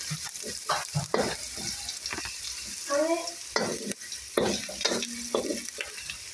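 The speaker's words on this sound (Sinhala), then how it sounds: "මේක හොඳට බැදෙනකන් අපි බැද ගන්න ඕන." Egg kottu frying and being stirred in a pan, busy scraping and clattering strokes over a constant sizzle, close and loud, with a brief squeaky scrape in the middle.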